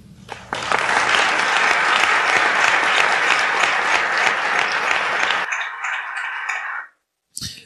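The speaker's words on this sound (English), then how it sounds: "It was a celebratory speech applauded by many people in December of 2021" Applause follows George W. Bush's December 2001 speech on Afghanistan: a large crowd claps densely and loudly for several seconds, then it cuts off abruptly and a faint thinner clapping trails briefly before silence.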